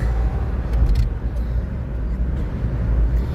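A car driving along a road, a steady low engine and road rumble heard from inside the cabin, continuous and fairly loud with no talk.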